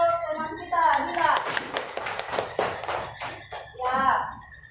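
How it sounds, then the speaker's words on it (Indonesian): Children in an Indonesian classroom clap their hands for a classmate, a dense burst of applause lasting several seconds with voices mixed in at the start and end. "Beri tepuk tangan untuk teman kita"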